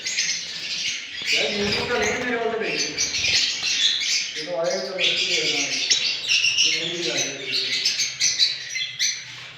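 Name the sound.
opaline budgerigars chirping in a breeding aviary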